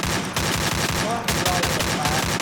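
Rapid, sustained automatic fire from an AK rifle in the mobile shooter Free Fire, a steady loud stream of close gunshots running throughout with no pause.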